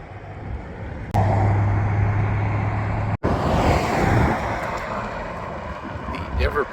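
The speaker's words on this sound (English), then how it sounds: "The ever-present cars making noise driving on down Central." Cars driving past on Central, a steady roar of nearby traffic rising and fading, with a loud pass, a brief dropout, then continuing road noise.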